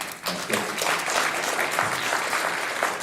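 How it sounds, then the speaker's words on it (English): A crowd at a regional Junior Achievement company program competition in a high school venue claps in a steady, dense round of applause, loud and continuous with a few scattered voices. "So round of applause for"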